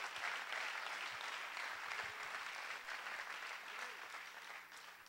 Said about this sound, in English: Clap your hands and thank God for your pastor tonight